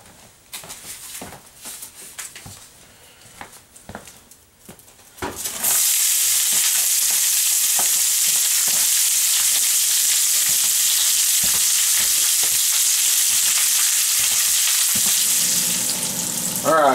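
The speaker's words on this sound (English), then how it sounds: "so we're cooking this in olive oil" Chopped onions and bell peppers hit hot olive oil in a pan on a stove, starting with quiet stirring and clinks, then bursting into a loud, steady, close sizzle that holds for the rest of the clip.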